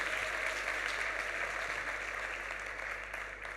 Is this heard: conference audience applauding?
yes